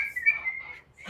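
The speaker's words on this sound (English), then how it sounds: "Whistling while I work." A person whistling a short sliding tune in a newsroom setting, faint and brief with a quiet gap near the end.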